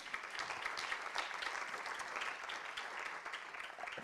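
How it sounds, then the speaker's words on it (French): Audience applause at a media innovation awards ceremony in France, a steady, dense wash of clapping from a crowd, moderately distant and fairly quiet, holding evenly for a few seconds without voices. "on peut les applaudir pour ce bronze"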